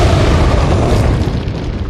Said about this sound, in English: I'm going to try and kill as many of those bastards with a hand grenade.